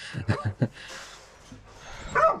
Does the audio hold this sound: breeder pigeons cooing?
no